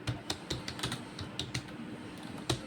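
Keys clatter in a quick, uneven burst on a computer keyboard, close and fairly quiet, with short irregular pauses between the taps.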